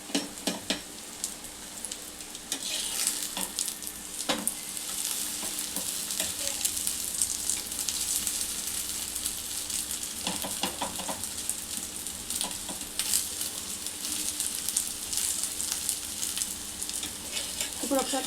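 Onion and egg for a chapati omelette fry slowly on a medium flame, a steady crackling sizzle with scattered spatters and occasional utensil taps, fairly close and unbroken by speech.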